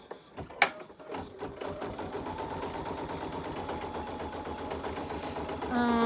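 An embroidery sewing machine stitches steadily at close range, a fast even mechanical whir with rhythmic needle clatter running throughout, with a brief knock near the start.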